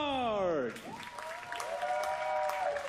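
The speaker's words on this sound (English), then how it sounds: "Get ready with a big applause." Spectators at a 50m rifle three-positions shooting match applaud as athletes are introduced; a fading musical tone opens, then moderate clapping rises beneath a steady announcer voice and background tones.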